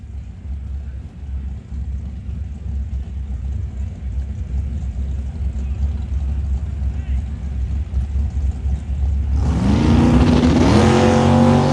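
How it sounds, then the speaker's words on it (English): A Camaro drag car idles with a deep, steady rumble at a drag strip, then launches off the line near the end with a sudden loud roar that rises sharply in pitch as it accelerates. "So Aiden Bailey will stage up the Camaro"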